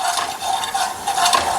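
Pav bhaji with butter is stirred and spread across a hot tawa, giving a continuous scraping, soft sizzling sound with a few louder strokes, close and alone with no talk.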